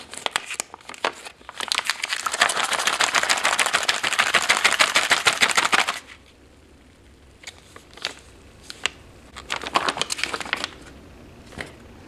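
A sealed MRE ration pouch from a 2011 Canadian light combat meal is shaken, giving loud crinkly plastic rattling for several seconds, then a pause and a few shorter bursts of crinkling.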